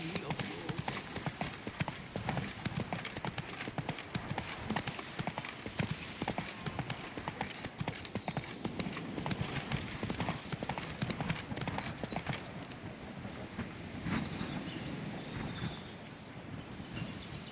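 Roach, the horse from The Witcher 3, gallops with a steady, rapid clip-clop of hooves from start to finish, fairly loud, mixed with wind and ambient game noise and occasional voices.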